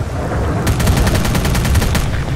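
In S.T.A.L.K.E.R. Call of Pripyat, distant automatic gunfire crackles in a quick rhythmic burst of a dozen or so shots over a steady rumbling ambience.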